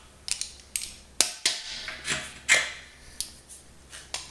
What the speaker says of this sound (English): I'm going to hand tighten it.